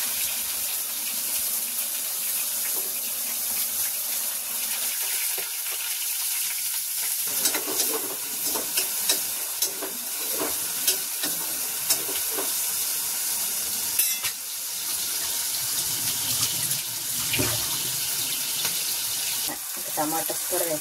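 Tomatoes go into a hot frying pan and get stirred, giving a steady sizzle with scraping and clinks of a spoon against the pan throughout, joined by occasional running tap water.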